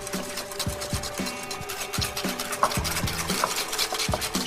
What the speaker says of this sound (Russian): ложку дижонской горчицы, немного красного винного уксуса. Начинаем взбивать.